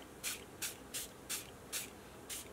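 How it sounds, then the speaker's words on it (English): Short hissing bursts from a spray bottle at a craft table, six evenly spaced sprays close by with quiet pauses between them, no talking. "I'm spraying in this corner on purpose"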